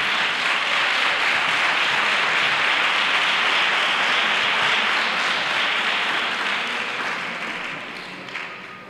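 Steady, dense applause from a crowd at a Three Kings coronation ceremony, honoring a town festival delegate, sustained loudly for several seconds before tapering off toward the end.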